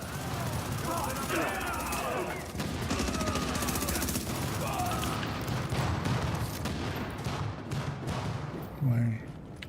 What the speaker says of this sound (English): We got gunfire at the front gate.